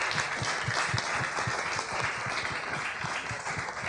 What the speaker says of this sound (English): I would really like to please give a round of applause to our wonderful speakers.